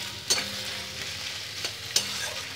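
Garam masala spices, including cinnamon, sizzle in hot oil with a soft, continuous hiss. A few sharp stirring scrapes cut through at intervals, with no voices.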